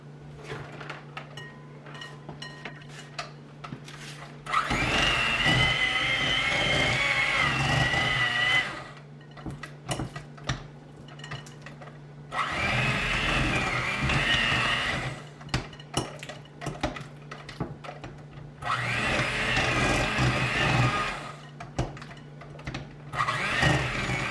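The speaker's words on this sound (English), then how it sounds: "you don't want the sugar to fly everywhere when you turn on your automatic mixer" An electric stand mixer beats butter and sugar for a cake from scratch, its motor whirring loudly in three long runs with short breaks, and bowl and spoon clatter faintly in the pauses.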